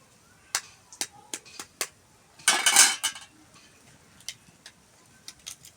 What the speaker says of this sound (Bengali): তার জন্য ডিমগুলো ফাটিয়ে নেব।